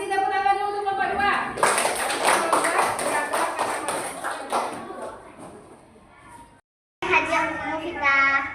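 A classroom group of children claps in a lively burst of applause with taps and thumps, mixed with kids' voices and an adult speaking before and after.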